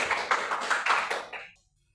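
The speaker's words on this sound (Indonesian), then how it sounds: "Kita beri aplaus kepada yang menjawab." A small class claps for a student who answered, a short burst of close, fairly loud handclaps in quick rhythm that stops abruptly at about one and a half seconds, leaving silence.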